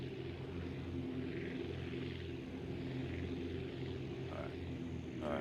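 A Roblox Aviassembly aircraft engine drones steadily at full throttle, a continuous loud propeller hum that holds without a break throughout.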